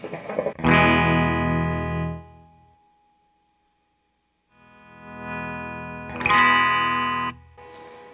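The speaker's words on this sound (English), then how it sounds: "I'm in the treble setting on this switch, alright, meaning that everything's coming out of this pickup, the treble pickup, the bridge pickup." An electric guitar on the bridge pickup with the selector in the treble position rings out in two loud distorted strummed chords, each sustaining and fading, separated by a near-silent gap with a faint lingering tone.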